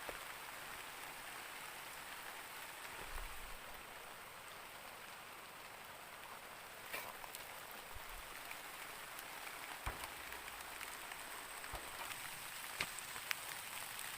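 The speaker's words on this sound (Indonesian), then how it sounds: "karena cuaca di sini ujuk-ujuk dres ya, dres hujan, jadi kita berteduh dulu kawan" Heavy rain pours steadily in a rural farming area, a dense, even hiss of drops on surfaces with occasional sharper drips and splashes, no voices.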